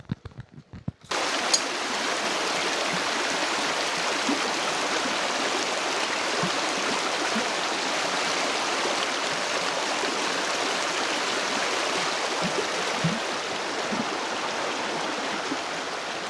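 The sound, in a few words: flowing stream water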